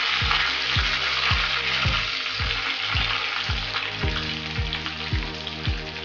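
Garlic, dried chillies and curry leaves fry in hot oil for a tomato pickle, a steady dense sizzle broken by rhythmic spoon scrapes about twice a second, close and fairly loud with no talking.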